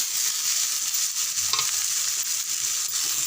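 Cluster beans stirred in a frying pan, a dense close sizzle with scraping stirs, loud and continuous with no talking.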